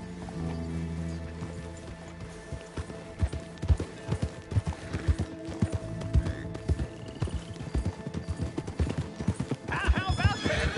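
Horses gallop with rapid, steady clip-clop hoofbeats and an occasional whinny while riders travel in a video game, close and continuous, with voices talking over the riding.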